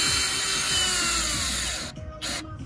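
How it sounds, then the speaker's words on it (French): A power screwdriver drives a small screw into wooden boards, a close whirring run of nearly two seconds followed by a brief second burst, loud and alone. "je visse tout doucement avec une toute petite vis pour pas faire de gros trous dans les lames"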